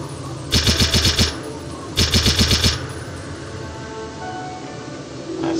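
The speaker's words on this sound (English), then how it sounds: "the Erma ZGSD, that is scoped and silenced version of the MP40" Scoped, silenced Erma MP40 submachine gun firing in a World War II video game: two short automatic bursts of rapid, evenly spaced suppressed shots, each about a second long, with quiet game ambience in between and no talking.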